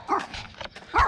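A dog gives two short, sharp barks about a second apart, close and fairly loud with little else around, at a car event.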